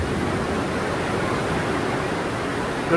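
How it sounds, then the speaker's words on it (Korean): Sea waves surge through a coastal cave in southern Tanegashima as a steady, loud, close roar of rushing water that fills the space without pause. "파도 소리 때문에 너무 무섭다"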